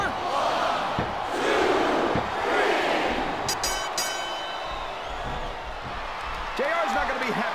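A wrestling arena crowd in SmackDown vs. Raw 2007 roars and swells in the background during an Undertaker versus Kane match, with commentators talking over the noise.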